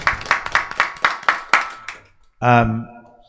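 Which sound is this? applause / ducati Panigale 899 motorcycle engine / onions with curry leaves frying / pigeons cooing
applause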